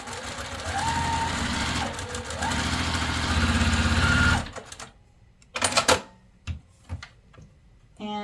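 A sewing machine chain pieces quilt fabric pieces in rapid loud bursts of rhythmic stitching with brief speed changes. It then stops, leaving quiet handling clicks and rustles.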